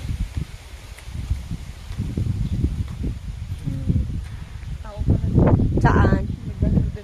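Strong, cool wind blowing outdoors while picking cherries, low gusty rumble rising and falling around the microphone, loudest near the end, with faint rustling and brief voices.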